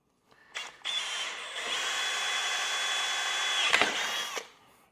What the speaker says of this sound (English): drill a hole into the bottom of this